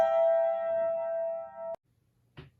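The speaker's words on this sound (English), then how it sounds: "The 5 chord sounds like this." A sustained chord, the five chord of the Phrygian dominant scale as used in klezmer, rings steadily for under two seconds and then cuts off abruptly, followed by a brief faint knock.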